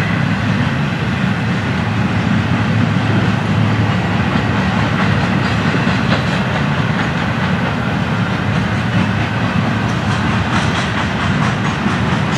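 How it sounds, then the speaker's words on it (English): A freight train carrying flatcars and stacked containers passes close by, a continuous loud rumble of wagons with steady clickety-clack from the rails throughout. "Train on reduced speed"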